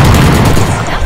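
A single loud, heavy Operator sniper rifle shot in a tactical shooter game, with a dense blast filling the whole short moment over talking players.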